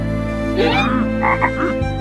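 A cartoon frog king from Chhota Bheem croaks in a few quick, bubbly bursts over a steady background tone, loud and close.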